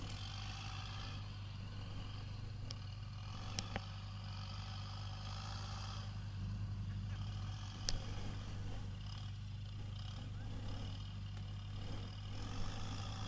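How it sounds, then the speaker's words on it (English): Heavy machinery working on a race track tire wall, a steady low engine drone carrying on at a distance with a few faint clanks over it, and no talk. "The tractor that you hear in the background is actually the heavy machinery that's replacing the tire wall up there"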